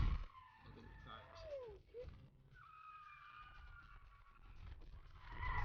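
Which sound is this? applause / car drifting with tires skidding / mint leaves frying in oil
car drifting with tires skidding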